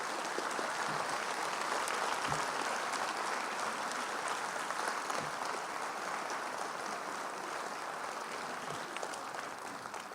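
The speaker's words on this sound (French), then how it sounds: "j'aimerais qu'on applaudisse les fonctionnaires" Steady applause from a large audience honoring civil servants at a French New Year's greetings address, a dense continuous clatter of clapping hands lasting throughout at even volume.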